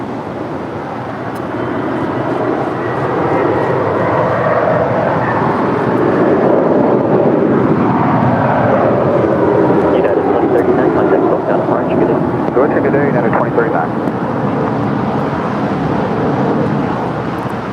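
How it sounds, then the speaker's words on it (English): A 20-year-old United Airlines Boeing 757-300 departing LAX for Chicago O'Hare, a loud, sustained jet roar with a slowly shifting whine that swells and holds across the whole stretch. "This is United Airlines Flight 2039 departing to Chicago O'Hare. It's a 20-year-old Boeing 757-300."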